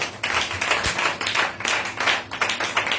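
A congregation claps loudly and steadily during a church teaching service, a dense, continuous burst of many hands applauding together with no voices over it.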